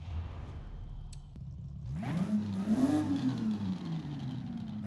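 A racing bus upgraded to about 500 horsepower in Forza Horizon 5 revs hard after a quiet idle, its engine pitch climbing and sweeping back down in a loud, close roar.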